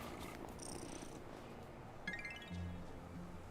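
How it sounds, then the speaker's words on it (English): A cat purrs softly in the Wylde Flowers video game, a low steady rumble at modest volume with faint chimes and clinks from the game interface layered on top. "Oh, what a good purr."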